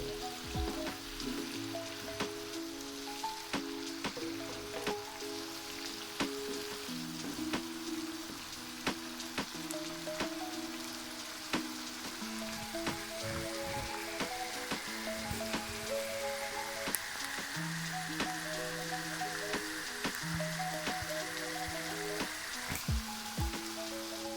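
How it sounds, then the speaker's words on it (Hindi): Tawa chicken ingredients sauté steadily in a pan, a continuous close crackling sizzle with scattered pops and soft music playing underneath throughout, no voices. "पाँच मिनट हम सब चीज़ों को अच्छे से भून लेंगे"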